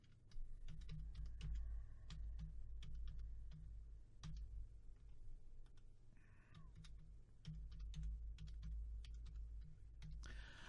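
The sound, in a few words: typing a password on a computer keyboard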